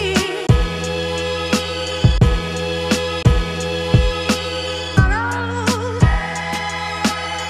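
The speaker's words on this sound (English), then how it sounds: "So I'm gonna keep my hi-hat muted here," A hip hop beat with the hi-hat muted: booming kicks and snare hits land in a steady groove beneath a dense, sustained layer of chopped samples, loud and close with no voices.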